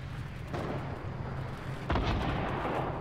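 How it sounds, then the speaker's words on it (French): Rockets exploding during a video game battle, two heavy booming blasts landing about a second and a half apart over a constant dense rumble of gunfire and background noise. "Des roquettes là."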